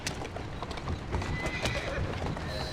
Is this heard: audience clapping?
no